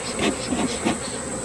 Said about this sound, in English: These bees are definitely active.